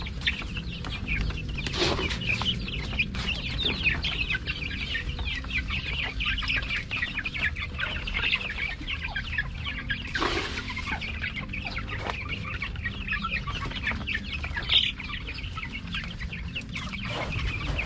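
A flock of about fifteen growing Rhode Island Red chickens clucks and chatters steadily while pecking at cabbage, close and continuous, with occasional sharper squawks.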